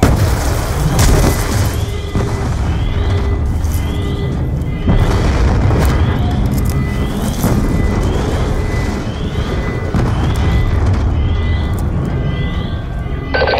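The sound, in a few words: explosions in a video game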